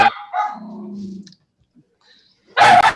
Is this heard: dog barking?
yes